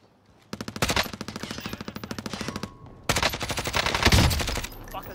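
Loud bursts of rapid automatic gunfire in a shooter video game, two long rattling volleys of close, evenly spaced shots separated by a short gap, with heavier thuds in the second volley.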